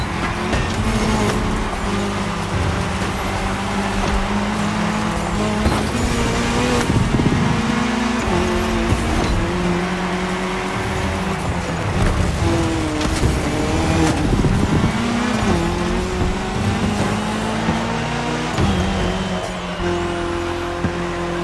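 Race cars roar continuously through a cross-terrain race in The Crew Motorfest, engines droning and shifting pitch with occasional tire noise, loud and steady throughout with no talking.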